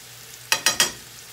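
Chicken sizzling in olive oil with salt and cumin: three short, sharp bursts of frying hiss in quick succession, close and fairly loud against a quiet kitchen background, with no talking.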